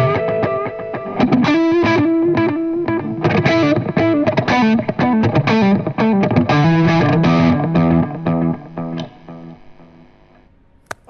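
Electric guitar with delay placed before a crunchy amp, playing gritty, distorted phrases with echoing repeats, loud and close, trailing off near the end; no speech.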